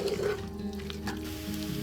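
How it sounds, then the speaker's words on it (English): Flour cooking in a soup pot with garlic for chicken and mushroom soup, a soft steady sizzle with faint stirring scrapes, quiet and close throughout. "Stir and cook out the flour."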